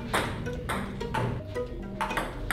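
A ping pong ball bounces on a table at an esports team's bootcamp in Korea, with sharp, hollow clicks arriving every half second or so over a steady room background.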